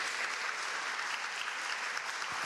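An audience at a scholarship ceremony claps steadily to welcome a speaker to the podium. The applause is dense and continuous but fairly quiet, as if heard from a distance.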